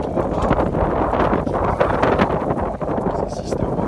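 Strong headwind buffeting the microphone aboard a sailboat heading to Union in the Grenadines, a rough gusty rumble throughout with people speaking over it.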